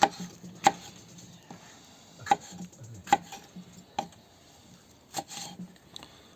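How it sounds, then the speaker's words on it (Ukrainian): A knife chops Bulgarian bell pepper on a board for Georgian chakhokhbili, sharp distinct cuts at an uneven, unhurried pace, several strokes spaced a second or so apart, close and clear with no voices. "На часі нарізаємо болгарський парчик."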